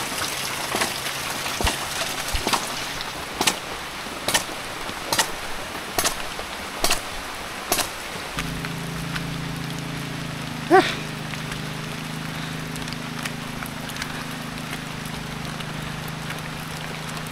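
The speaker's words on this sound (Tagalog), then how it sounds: "Ito yung water source natin. Stream water." A spring-fed stream at a water source runs with a steady, continuous rush of flowing water, close and fairly loud. A few sharp knocks sound in the first half, and a low hum joins midway.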